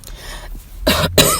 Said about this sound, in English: I'm coughing here and there.